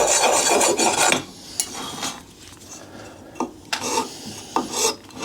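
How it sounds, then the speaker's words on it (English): A hand file rasps over the sharp edges of a Garelli engine case in short scraping passes, a dense stretch of rubbing at first, then several brief separate strokes, close and fairly loud with no talking. "we're taking a file, and I'm not shaving anything off. I'm just running this over the sharp edges."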